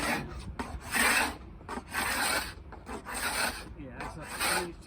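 A hand scraper strips finish from freshly sanded wood in a series of close, loud rasping strokes, each about half a second long, separated by short pauses in a steady back-and-forth rhythm.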